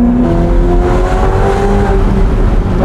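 Ferrari F8 Tributo with its twin-turbo V8 accelerating hard, a loud, continuous rising engine roar with climbing pitch held throughout, close to the listener and with no talking.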